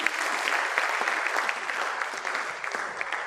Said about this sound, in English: So let's clap for him once again.